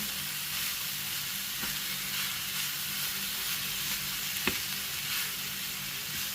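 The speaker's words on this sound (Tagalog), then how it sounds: "Halu-haluin lang po natin." Blended cauliflower with carrots and green peas frying in a pan, a constant close sizzle with soft scraping stirs and an occasional clack of the utensil, no voices.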